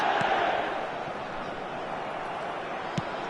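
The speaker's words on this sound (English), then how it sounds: "The crowd are calling for this to be put to bed." A stadium crowd in the eFootball 2025 video game keeps up a steady, distant roar of chanting, louder at first and then settling into a constant wash, with a brief thud near the end.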